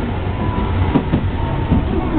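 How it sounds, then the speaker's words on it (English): Streetcar ride in northern Tokyo, with a steady loud rumble of the car rolling on rails, faint rhythmic clatter and mechanical hum filling the cabin throughout. "So come on out here and get a streetcar ride, a little different experience."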